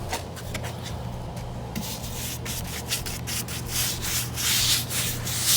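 Sandpaper rubbing over rough, deliberately uneven paint, a steady scratchy scraping in repeated strokes that stays close and fairly loud throughout, growing a little busier toward the end with no talking.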